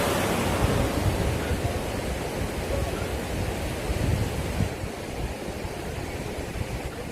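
A river in Arunachal Pradesh flows steadily, a dense, unbroken rushing wash of water that stays close and even throughout, with no voices over it.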